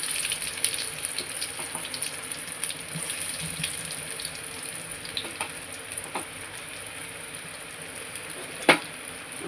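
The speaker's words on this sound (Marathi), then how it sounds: "कांदा आपल्याला इथे टाकून परतून घ्यायचा आहे" Chopped onion sautéing in hot oil with mustard seeds and cumin, a steady soft sizzle with faint stirring scrapes and one brief clink near the end, no talking.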